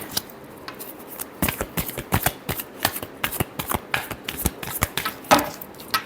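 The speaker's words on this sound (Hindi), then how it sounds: "Last shuffle." Tarot cards being shuffled by hand in a steady run of crisp riffling bursts, close and fairly loud, with one sharper snap near the end and no talking.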